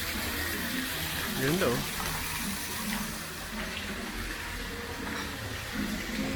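A small waterfall pours and gushes steadily close by, a continuous splashing rush, with a person speaking briefly over it.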